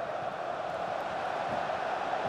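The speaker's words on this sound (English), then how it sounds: "Can tell the crowd want him to shoot" A steady, dense roar from a stadium crowd in FIFA 19, an LAFC versus Houston match, holds an even level throughout with no distinct peaks.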